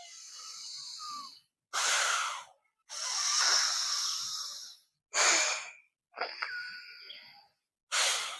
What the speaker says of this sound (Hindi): एक से सांस भरा, दूसरे से निकाला, जिससे निकाला उससे भरा, फिर दूसरे से निकाला।